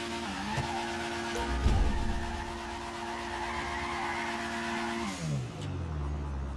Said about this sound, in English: I want to start a drift going left or counterclockwise around it